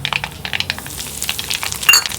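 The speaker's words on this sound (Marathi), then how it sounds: "मोहरी छान तडतडली आहे" Close, crackling pops of mustard seeds spluttering in hot oil, rapid irregular bursts over a low sizzle, no talking.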